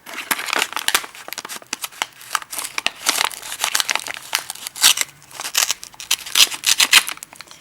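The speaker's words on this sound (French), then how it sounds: "Je détruis littéralement l'enveloppe, c'est pas grave." A paper envelope being torn open by hand, close and loud, in a series of crinkling rips and crumpling bursts with short pauses between them.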